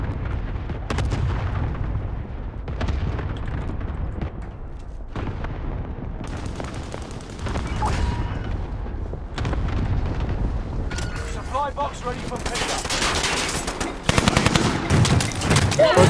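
Dense gunfire from Call of Duty: Modern Warfare, bursts of machine-gun rattle and heavy booming shots packed close together, loud and continuous with brief gaps, building to a sharper barrage near the end.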